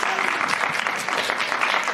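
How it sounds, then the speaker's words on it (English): An audience applauds to welcome a panel of education practitioners at a convening, a steady, even burst of clapping throughout. "Can we give them a round of applause and welcome them?"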